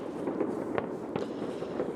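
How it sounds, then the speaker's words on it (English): Fireworks going off outdoors on a snowy day, heard as a couple of sharp, distant pops over a constant dull background rumble, brief and fairly faint. "Oh, fireworks."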